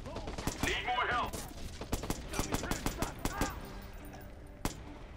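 Gunfire in the video game Watch Dogs: a burst of sharp shots crackling in quick succession, then scattered single and double reports over several seconds, mixed with in-game voices and effects.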